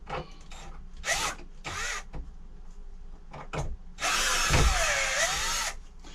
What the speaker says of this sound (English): this is just a little inexpensive Black & Decker screwdriver, a little 20 volt